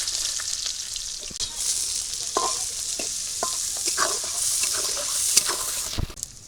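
Chopped onion fries in hot oil in a wok, a bright, steady sizzle close by, broken by soft scraping and stirring clicks as the pieces are moved around.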